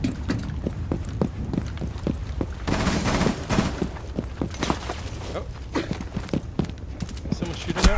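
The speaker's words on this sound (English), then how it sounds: "Someone's shooting out." Gunfire in the Rainbow Six Siege video game, heard as rapid, repeated sharp shots and bursts throughout, mixed with voices talking over the action.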